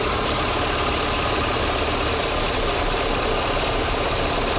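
A warm car engine idles roughly while water is applied around the intake to test for a vacuum leak, producing a loud, close, constant engine drone with uneven knocking under it and no voices.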